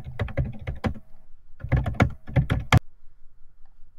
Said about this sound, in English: what you typing, boy?